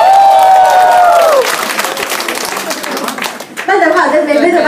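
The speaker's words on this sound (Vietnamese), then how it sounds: "xin mọi người một tràng pháo tay" Applause breaks out from an audience at a year-end company party pageant, steady clapping and crowd noise following a host's amplified voice, with speech over parts of it.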